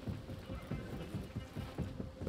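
Horse hooves clip-clopping in the Assassin's Creed Mirage video game, a quiet, steady rhythmic trot of soft thuds under muffled background noise and faint talk.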